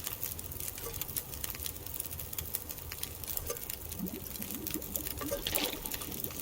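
Water being prepared in The Long Dark, a soft continuous pattering and trickling of liquid with faint splashes, steady and close throughout.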